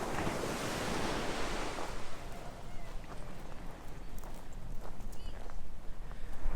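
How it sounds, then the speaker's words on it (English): Surf washing steadily onto the shore at Myrtle Beach, a broad continuous roar of breaking waves with gusts of wind buffeting the microphone. "I just love that sound of the ocean waves."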